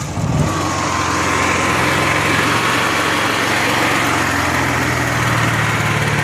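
A Honda gas-powered arc welder generator engine runs steadily and loudly at close range, a constant buzzing small-engine drone with no talk over it.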